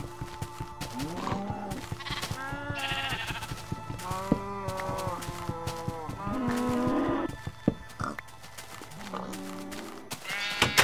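A cow and other farm animals in the Minecraft video game give a series of repeated lowing and bleating calls, moderately quiet and overlapping at irregular intervals.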